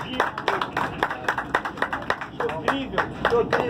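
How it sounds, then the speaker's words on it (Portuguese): Audience clapping for a poet performing on a Rio de Janeiro metro train, a scattered round of hand claps with voices talking underneath. "Se você gostou,"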